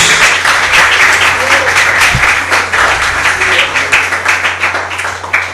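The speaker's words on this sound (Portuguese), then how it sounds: "Dá uma salva de palmas para Ele." A church congregation applauds during a sermon, a close, loud round of clapping that continues steadily and slowly thins toward the end, with a voice speaking faintly underneath.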